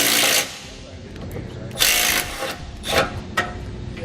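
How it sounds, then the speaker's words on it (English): Power socket tool loosening 14mm bumper beam nuts on a 2019 Subaru Outback, three short loud whirring bursts with workshop clatter and background noise between them. "We can now use a 14mm socket to remove all the nuts holding on our bumper beam."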